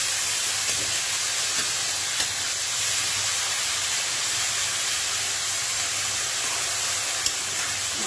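Potatoes frying in a pan for Bengali aloo bhaji give off a steady, dense sizzling hiss that holds at an even level throughout, close by and with no talking.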